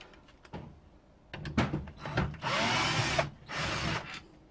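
An electric drill whirs in several bursts, starting and stopping, with a couple of longer sustained runs close up, no talking.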